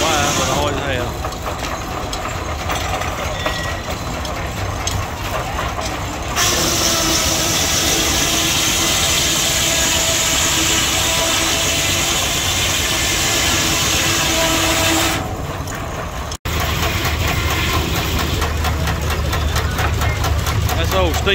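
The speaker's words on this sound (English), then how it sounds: "That's the old steam engine they got running that sawmill" An old steam engine powering a sawmill, a steady mechanical running drone with rhythmic knocking that continues throughout, loud and close, with a brief break near the end.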